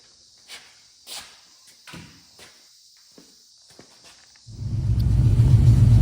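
Footsteps and faint clunks of getting into a 1969 Pontiac Firebird lead up to its engine starting, which settles into a loud, close, steady low rumble for the last second and a half.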